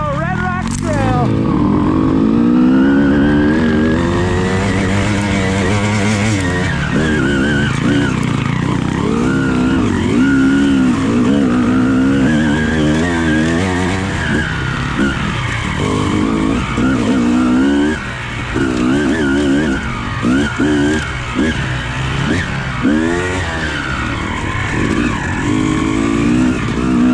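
Motorcycles climb a rocky trail on Red Rocks Trail. Engines rev and bog in uneven surges close to the mic, with a constant gritty roar of wheels scrabbling over stones.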